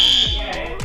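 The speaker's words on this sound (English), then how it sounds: "the alarm started going off" A fire alarm blares in a radio studio, a loud, harsh, continuous electronic tone that fills the short span.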